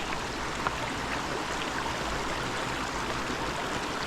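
A mountain creek at Junction Creek in Kananaskis in September flows with a faint, continuous watery hiss and gurgle. The sound is steady throughout, with no talking.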